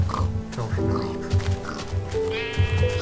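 Sheep bleating in the video game Minecraft, a few wavering bleats that overlap with steady talking and other background game noises.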